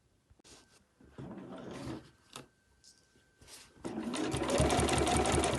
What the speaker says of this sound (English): So I'm just sewing really close to the edge.